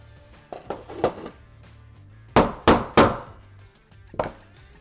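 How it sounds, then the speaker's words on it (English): A hammer taps an extended Taran Tactical base pad onto a P-Mag magazine: a few light knocks, then three sharp, close, louder raps in quick succession and one final tap, with no talk. "I need to give this a little love tap and then get it seated in the rest of the way."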